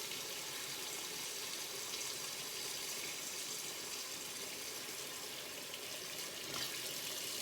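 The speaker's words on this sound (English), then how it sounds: "And I'm putting in hot water." Hot water pours steadily into a pot of meat and vegetables for broth, a continuous hissing gush that is fairly quiet and heard alone.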